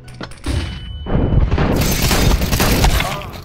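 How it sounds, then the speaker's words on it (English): A flashbang grenade detonates in Counter-Strike 2 with a loud, sustained crackling blast that starts around the middle and fills the rest of the clip, with voices talking beneath it. "Throwing flashbang."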